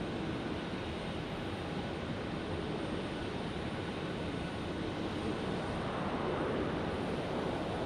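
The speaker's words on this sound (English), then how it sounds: "Good old King Air." A Beechcraft King Air turboprop, likely flown by Advanced Airways in from Silver City, arrives at Phoenix Sky Harbor Airport, its steady broadband drone distant and faint, blending with wind across the whole stretch with no talk.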